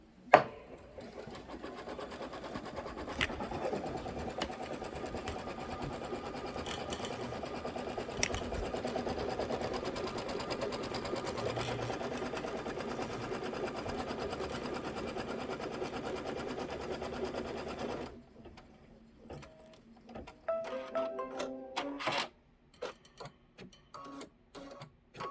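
A sewing machine stitches table topper quilt blocks with a steady, close mechanical whirr that runs continuously for most of the stretch, then stops and gives way to quieter intermittent handling sounds.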